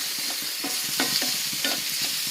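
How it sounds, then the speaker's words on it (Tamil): Garlic and shallots sizzle steadily in hot oil for a dried turkey berry kuzhambu, with a constant frying hiss broken by several sharp scrapes and stirs of a spoon in the pan, close and continuous, with no talking. "பூண்டும் சின்னங்க நல்லா வதங்கணும்"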